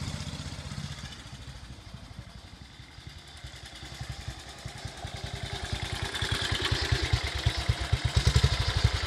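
A 1941 BSA WM20 military motorcycle in khaki runs steadily close by, its single-cylinder thump building toward a louder, quicker rhythm near the end, with no talk over it.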